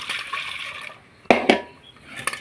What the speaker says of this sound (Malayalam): ഇനി നമുക്ക് എന്ത് ചെയ്യുന്ന വെച്ചാൽ ആവശ്യമായ വെള്ളം ചേർക്കാം.